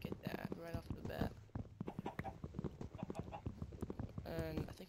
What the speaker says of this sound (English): So I hear chickens.